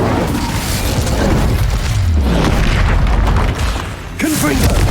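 An Incendio fire spell in Hogwarts Legacy erupts as a loud, continuous roaring burst of flame amid a combat din, with a brief dip before a voice shouts over it.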